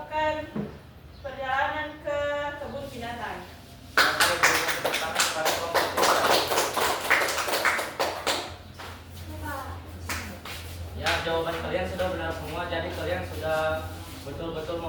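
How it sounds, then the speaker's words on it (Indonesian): A classroom of students claps for a group during a microteaching lesson, a dense burst of hand claps running for several seconds in the middle, with the teacher's voice before and after. "berikan tepuk tangan kepada kelompok 3"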